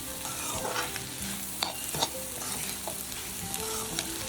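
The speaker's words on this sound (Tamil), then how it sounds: "உப்புத்தூள் போட்டு காய்களை நல்லா வதக்கணும்" Vegetables are stir-fried with salt in a pan for spicy chicken noodles: a steady, dense sizzle with occasional sharp scrapes and knocks of the spatula, close and alone.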